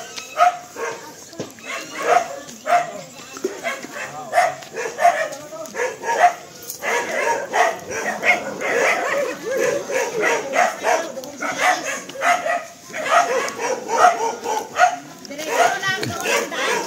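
Several dogs bark repeatedly in quick bursts throughout, fairly close, with people talking underneath.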